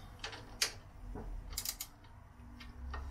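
A tool tightens crash bar bracket bolts on a Suzuki V-Strom DL1050XT motorcycle, giving faint, sparse metallic clicks and ratcheting ticks in short irregular bursts, with no talk.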